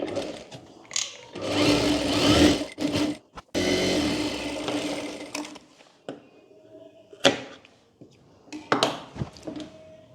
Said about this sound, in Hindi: अब यहाँ पर शोल्डर वाले पार्ट में ऊपर वाले पार्ट में भी सिलाई कर लेंगे।